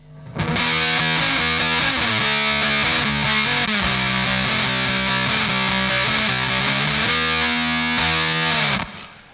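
Electric guitar runs through a Red Witch Seraphina fuzz/octave pedal, loud and thick with distorted sustained chords and octave-doubled notes ringing continuously for about eight seconds before cutting off.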